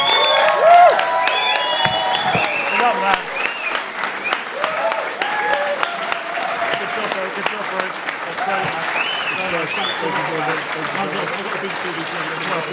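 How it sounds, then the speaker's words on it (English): A standing crowd gives a guest a big round of applause, with dense clapping mixed with cheers, whoops and lively voices throughout. "can we just all stand up and just give this man a big round of applause"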